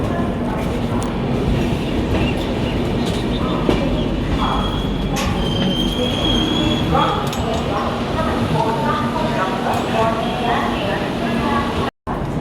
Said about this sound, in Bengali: ট্রেন সবে দক্ষিণেশ্বর ছেড়ে এখন দক্ষিণেশ্বর ব্রিজ বেরোবে।